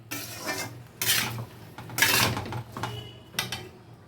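Pot of bottle gourd curry being covered with a lid while it cooks: a few short metallic scrapes and clinks in quick bursts, fairly quiet, with no speech.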